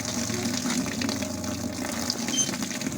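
Strong water flow from a deep well at a resort gushes in a continuous, loud rushing stream, steady from start to finish with no talking.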